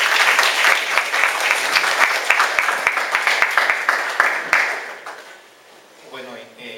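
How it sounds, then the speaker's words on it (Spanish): Lecture audience at a youth and globalization talk in Trujillo applauds a speaker, steady loud clapping from many hands that fades out near the end before a voice begins. "Un aplauso para Gonzalo."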